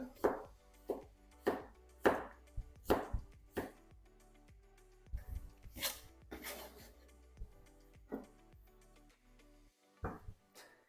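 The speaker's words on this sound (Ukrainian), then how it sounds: "Бурячок нарізаю невеличкими шматочками." A knife chops beetroot into small pieces on a board in sharp, fairly regular strokes, a dozen or so close knocks with short pauses between them.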